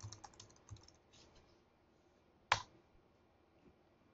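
Faint, sparse keystrokes on a computer keyboard, with a cluster of taps at the start and one sharper click midway, as a password is entered while setting up a Windows Server 2012 server core installation.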